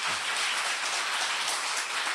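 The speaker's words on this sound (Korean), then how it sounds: "감사하는 박수 좀 쳐봐요" Audience applause filling a lecture hall as listeners clap in thanks during a talk on Chinese characters, a dense, steady wash of many hands lasting the full stretch with no voices on top.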